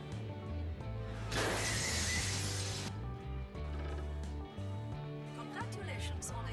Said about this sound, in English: After crashing through the wall, Bond's BMW ends up in an Avis rent-a-car store